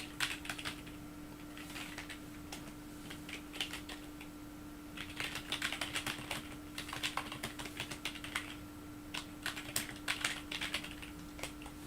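Rapid bursts of keystrokes on a computer keyboard, clattering in uneven clusters over a steady electrical hum, with short pauses between runs of typing.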